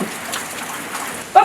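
Steady rain falling outdoors in a rural setting, a soft continuous hiss with a brief louder spatter near the end, no voices.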